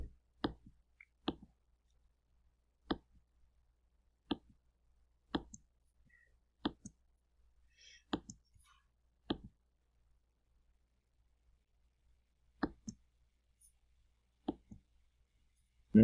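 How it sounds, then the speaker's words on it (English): A series of sharp, isolated clicks, about a dozen spaced irregularly across the quiet, like individual keys being pressed on a keyboard. "you can hear all my button presses"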